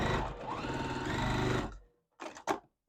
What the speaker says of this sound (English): So now we're going to sew the square in a square.